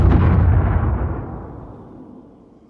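A big explosion with a rolling shockwave opens at full force, then a long rumbling boom fades steadily over a few seconds, heavy and close with nothing else heard.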